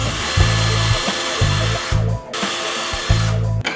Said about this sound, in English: I'm going to drill the holes